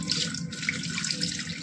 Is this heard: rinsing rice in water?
yes